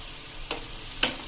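A slotted spoon stirs taro leaf bhajiya frying in oil, making two short scraping strokes over a soft sizzle. The frying is close and quiet, with no voices.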